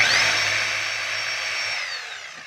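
A DeWalt D25811 5 kg jack hammer being test-run: a loud, close, high-pitched motor whine that starts strong and holds steady, then winds down slightly toward the end.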